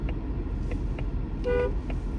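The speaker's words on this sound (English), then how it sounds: "I hate honking, but kind of trying to get going here." A car horn gives one short honk in traffic, sitting over a steady low engine and road rumble, with a few faint tonal blips around it.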